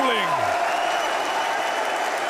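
Arena crowd at a Counter-Strike esports final between Spirit and Vitality, a broad sustained roar of cheering and applause filling the hall, loud and steady throughout, with a sweeping electronic tone at the start.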